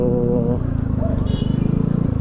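A motorcycle rides through rush-hour city traffic at dusk, its engine a steady low drone close by, with a rhythmic pulsing and a brief higher whine, under someone talking.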